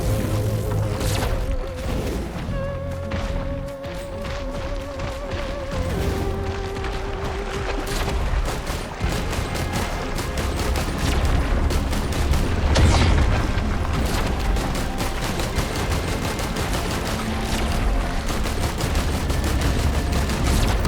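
Gunfire from units in the game Risk of Rain 2: a dense, continuous barrage of shots and booms running throughout at steady loudness, layered over tonal game music.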